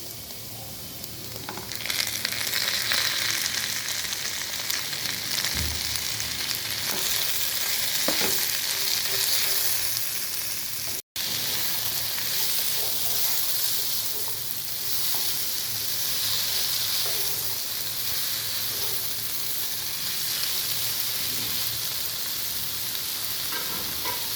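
Capsicum and mushrooms fry in a pan for a Japanese-style chicken and vegetable dish, giving a steady, close sizzle with a few faint stirring scrapes and no speech.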